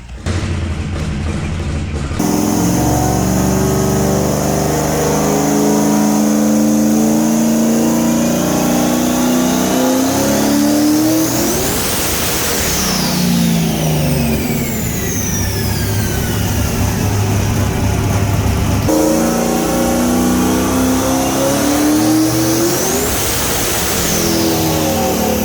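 A 1531-horsepower full-race Fox Body Mustang roars up close, its engine revving hard in repeated rising and falling sweeps over a loud, continuous rumble.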